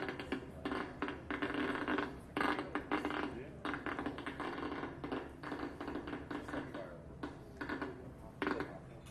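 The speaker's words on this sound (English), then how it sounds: "every single little pop you hear is an action potential that the neuron is sending" Recorded action potentials from a single neuron played back as sound, an irregular stream of soft crackles and small pops with no steady rhythm, faint and close.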